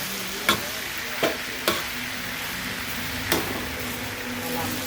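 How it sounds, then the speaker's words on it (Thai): Cabbage stir-fried with sun-dried pork and fish sauce in a wok, a continuous hiss of frying with a few sharp scraping strokes of the spatula spaced through it. "ผัดน้ำปลาใส่หมูแดดเดียวค่ะ"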